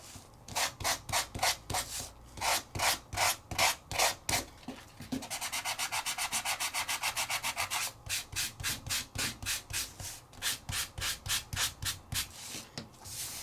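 An embossed craft panel coated with wax is rubbed by hand with sandpaper in close, steady back-and-forth strokes, slow at first, then a quicker burst of short strokes, then slower strokes again, with no talking.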